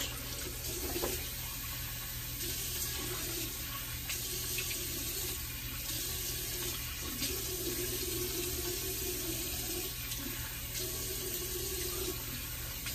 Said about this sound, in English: I'll go ahead and cold water rinse here.